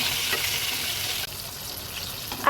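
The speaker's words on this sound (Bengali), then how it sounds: "আর কিছুক্ষণ পরেই ফ্রেঞ্চ ফ্রাইগুলো ভাজা কমপ্লিট হয়ে যাবে।" French fries frying in hot oil in a home kitchen, a steady close bubbling sizzle with occasional stirring, no voices.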